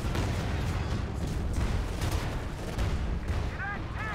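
Anti-tank gun fire and explosions in a strategy war game, a dense, continuous rumble of shots and blasts at moderate level.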